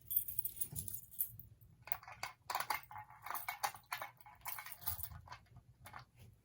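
Keys jangle in irregular bursts while being used to key-activate a fire alarm device, with small clicks and metallic clinks up close. The sound is faint, and no one talks.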